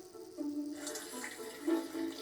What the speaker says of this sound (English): Rinse them under cold water and off comes the skin.